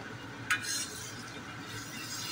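Onion masala with ginger garlic paste being sautéed for egg curry, a soft, quiet stirring hiss in the pan with one sharp utensil clink near the start.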